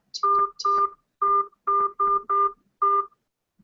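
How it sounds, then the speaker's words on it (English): Telephone keypad tones punch in a six-digit conference code on a call line: seven loud, clean dual-tone beeps in an uneven sequence, close and alone. "Please enter your 6-digit conference code."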